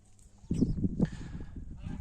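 A black turkey on a Ukrainian farm gobbles in a short burst of throaty, warbling calls, close and fairly loud after a quiet start.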